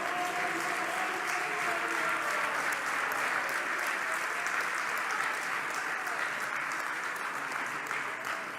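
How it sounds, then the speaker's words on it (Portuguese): A church congregation applauds in sustained, dense clapping that fills the space, loud and steady throughout before easing slightly at the end. "Vocês podem aplaudir a Jesus Cristo."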